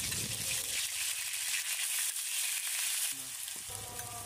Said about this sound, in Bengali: এবারে পেঁয়াজ বাটা দিয়ে দিলাম।